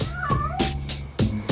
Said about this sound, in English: And I think the cat pretty much ran into me.